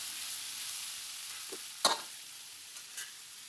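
Vegetables sizzle steadily in a home-kitchen pan, a constant hissing fry broken by a couple of brief utensil clinks and stirring scrapes.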